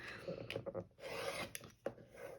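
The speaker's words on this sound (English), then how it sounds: "So I'm going to trim here and here" A rotary cutter trims quilt fabric along a ruler on a cutting mat, making short, close, quiet rasping strokes with small knocks between them.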